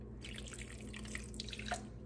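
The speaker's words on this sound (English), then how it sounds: "Gonna add a little more water." Water trickles and drips faintly as a little is added to raw chicken breast, a quiet, close, steady pouring with no voices over it.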